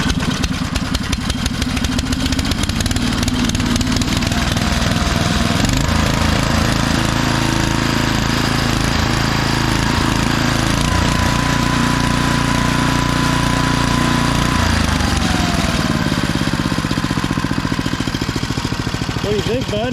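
A 1991 DR field and brush mower engine starting and running, a loud, continuous rough chugging that holds steady before its pitch shifts, close up, with a voice speaking over it.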